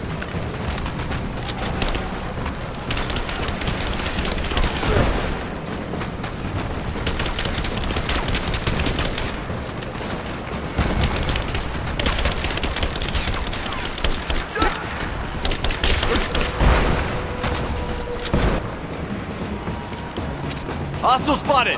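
Game gunfire in a Rise of the Tomb Raider firefight: dense, continuous bursts and shots with impacts and booms under shouted voices throughout, loud and busy.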